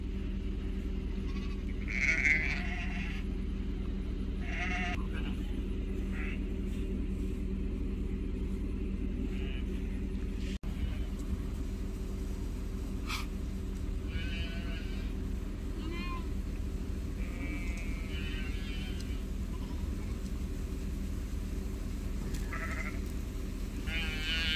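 Sheep bleat repeatedly across a pasture on a regenerative farm, calls overlapping at varied distances over a steady low engine-like hum, with a person speaking briefly among them.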